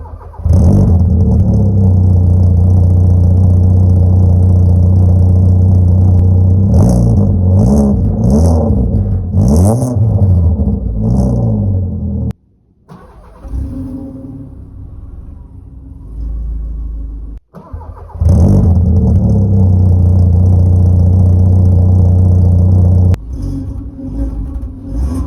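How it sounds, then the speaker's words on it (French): A car engine fitted with a new stainless steel exhaust silencer starts and runs loud and close, with revving bursts, a short quieter stretch mid-way, then a strong, steady exhaust drone again. "maintenant, on peut partir sur un petit démarrage"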